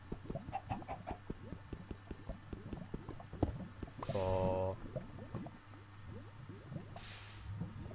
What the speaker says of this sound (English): Oh, it's just a chicken.